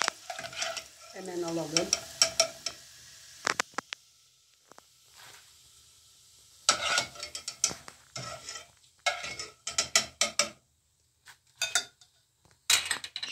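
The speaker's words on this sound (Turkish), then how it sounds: "atıyoruz kızgın yağın içerisine" Homemade potato chips fry in hot oil with a soft sizzle, punctuated by repeated clinks and stirring scrapes of utensils against the pan; a brief voice speaks early on.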